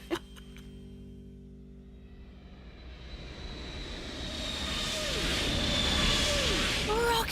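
Cartoon helicopter rotors in flight, a broad whooshing engine roar that builds steadily louder, with a sharp thump at the start and whistling tones near the end.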